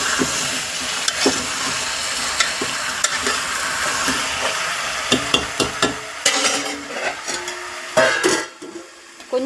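Green chillies and onions frying in a pan, a continuous loud sizzle and hiss broken by scraping stirring strokes that grow sharper and more frequent toward the end.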